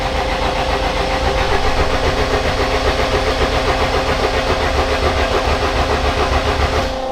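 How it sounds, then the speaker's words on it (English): A rebuilt 1000hp AWD Honda Civic engine cranks over on the starter without firing, making a close, continuous rhythmic churning that lasts about seven seconds. "It's turning over beautifully."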